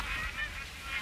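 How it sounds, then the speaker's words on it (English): Geese honk faintly in a wetland, a few soft distant calls layered over an open outdoor hush. "the birds and the geese and the ducks"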